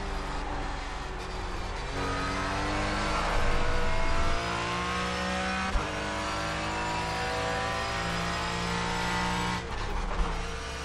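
A race car engine in the iRacing simulator drones at high revs throughout, with a steady buzzing tone that rises and dips through gear shifts, loud and continuous.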